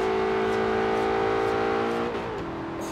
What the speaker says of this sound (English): there's nothing quite like an Aston Martin V8 or an Aston Martin V12